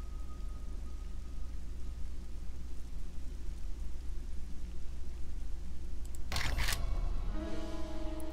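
Steady, even rain hisses in the 7 Days to Die survival game, running on alone until a sudden sharp clatter near the end, followed by a faint ringing tone.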